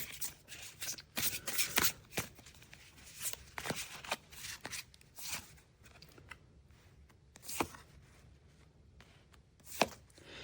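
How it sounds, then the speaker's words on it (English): Tarot cards being drawn and handled up close, giving soft irregular shuffles, slides and crisp flicks at a quiet level with no talk. "Let's pull out some other cards to take a look at the next layer of depth"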